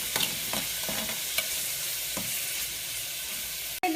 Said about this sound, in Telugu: కొద్దిగా అల్లం వెల్లుల్లి పేస్ట్ కూడా వేయండి. వేసి కొద్దిగా కలపండి.